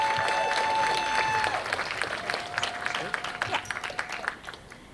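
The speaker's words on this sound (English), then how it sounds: "And keep that applause going for Kona Morris." Audience at a Moth StorySLAM storytelling night applauding as a storyteller walks up, dense clapping that thins into scattered claps, with a voice over the start.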